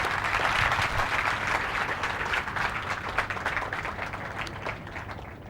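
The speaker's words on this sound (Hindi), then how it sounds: "एक दफ़ा ढेर सारी तालियां बजाएं इस मौके पे" Loud, dense audience applause at a comedy show at the Islamabad Literature Festival 2019, steady clapping from a large crowd that fills the whole stretch and eases slightly toward the end.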